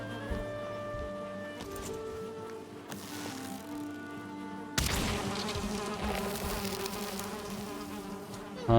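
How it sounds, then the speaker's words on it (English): A honeybee drones steadily in the video game Valheim, with a sustained tonal buzz that thickens into a fuller, louder buzzing partway through and holds without speech. "Honeybee."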